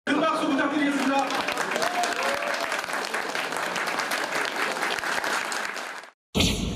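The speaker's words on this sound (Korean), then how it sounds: "큰 박수 부탁드리겠습니다." An indoor audience at a political party event applauds, a dense, steady wash of clapping that fills the room before cutting off abruptly near the end.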